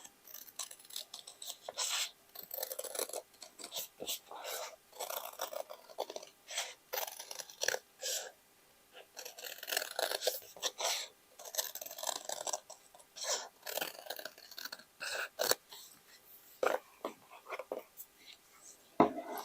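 Scissors cut denim fabric for a bucket hat with soft, close, irregular snipping and crunching strokes, fairly faint, in a quiet room.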